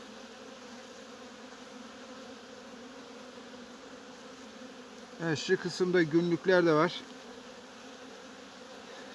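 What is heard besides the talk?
honeybees and robber bees buzzing around a hive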